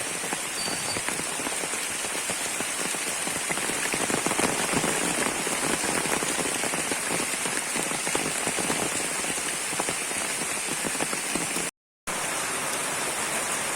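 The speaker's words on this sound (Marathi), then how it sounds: "धोधो कोसळणाऱ्या पावसाच्या सरी सोबतीला असतील तर मजाच येते" Heavy rain pours down steadily over a Konkan village in Ratnagiri, a dense, even hiss of drops drumming on surfaces that continues without a break.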